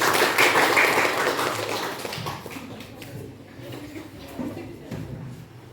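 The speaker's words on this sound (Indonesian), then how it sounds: "Beri tepukan untuk kelompok 2" A classroom of students applauds a presenting group, a loud wash of clapping at first that thins and fades over several seconds, with scattered claps and faint voices trailing behind.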